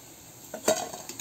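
Crisp Bengali taro fritters (maan kochu bora) lifted out of hot frying oil: a soft oil hiss swells into a sharp sizzling burst with a brief utensil scrape, then settles into a lighter crackle, close by with no talk.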